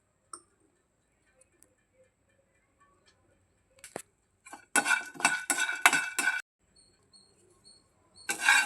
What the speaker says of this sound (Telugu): ఇప్పుడు గుమ్మడి గింజలను వేయించుకుందాం.